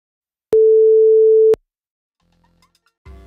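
A steady synth oscillator tone on a Daisy board, gated by a button, sounds once for about a second with abrupt clicky starts and stops, then silence with faint noises at the end.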